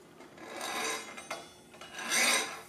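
A hacksaw blade cuts a relief into a bearing race during a caster bearing replacement. It makes a close, raspy scraping in a few uneven strokes, and no one speaks.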